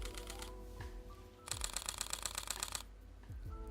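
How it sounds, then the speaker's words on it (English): Lumix S1II mechanical shutter firing in a rapid burst, a dense run of crisp close clicks for about a second, with quieter single shots and faint handling noise before and after. "So that's the mechanical shutter."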